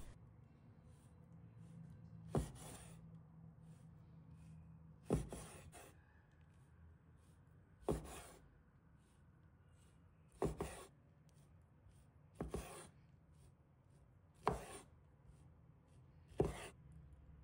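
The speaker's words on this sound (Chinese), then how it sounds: "我们换个方向继续切，切的时候第3刀就切断。" Knife cutting through pork kidney on a cutting board, seven sharp, separate chops spaced a few seconds apart over a quiet background.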